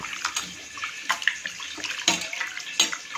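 Mutton pieces are washed in water for a third rinse, with splashing, sloshing and dripping in uneven bursts, close and fairly loud.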